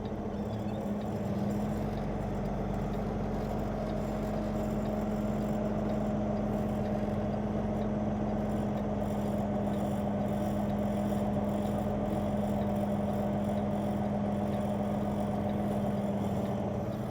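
A truck engine idles and rumbles at a steady low drone while backing up, with a constant hum and no voices.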